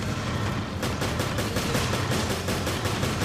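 Rapid machine gun fire in the video game Resident Evil Revelations, a fast even stream of loud shots running continuously after a brief lead-in.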